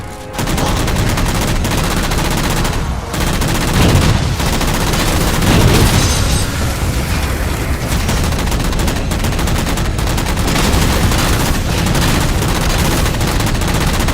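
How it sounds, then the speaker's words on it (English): Sustained automatic chain gun fire in the Halo 4 video game, a loud continuous rattling burst running almost the whole time with dense repeated shots and brief dips, alone without talk. "your accuracy gets worse and worse the closer that the chain gun is to overheating"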